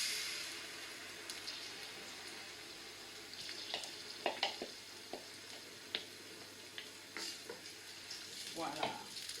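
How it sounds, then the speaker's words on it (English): Blended tomatoes added to onions frying in a pan, a continuous soft sizzle with scattered clinks and scrapes of stirring, fairly quiet and close. "Now that the onions are ready, I'll just add the blended tomatoes."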